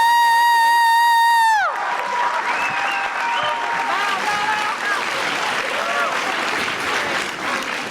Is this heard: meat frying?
no